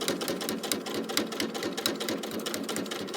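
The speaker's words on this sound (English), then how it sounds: "So then we'll just continue to sew down our 1/4 inch" A sewing machine stitches a quarter-inch seam on a zippy pouch, a rapid, evenly pulsing mechanical chatter that runs close and steady throughout with no voice over it.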